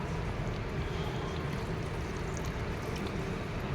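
Hot water poured into mutton curry in a village kitchen, a continuous rushing, splashing pour heard fairly quietly and steadily throughout.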